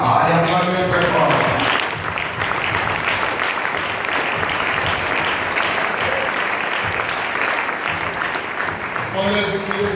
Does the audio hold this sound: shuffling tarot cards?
no